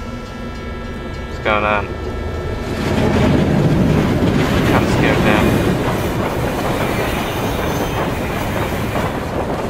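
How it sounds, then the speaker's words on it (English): A train rumbles overhead in the video game Little Inferno, its heavy rolling clatter swelling in after a short tone and holding loud to the end, with a voice speaking over it. "Oh, it's just a train going over."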